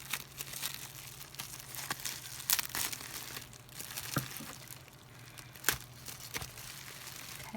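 Tape and packaging are crinkled and peeled off a boxed anime figure from a Japanese subscription box, a close, steady run of crumpling with sharp tearing bursts scattered throughout.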